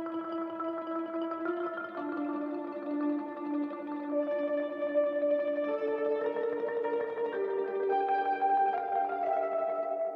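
Mellotron M4000D tape-replay mandolin and marimba voices played together in an iPad app, sustained tremolo chords drifting through slow changes, dry and steady with no talk.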